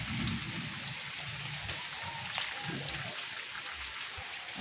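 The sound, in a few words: morning rain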